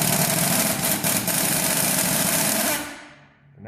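An impact wrench drives a strut bolt on a Toyota RAV4 in one loud, steady buzzing burst close by, running for nearly three seconds before spinning down and stopping.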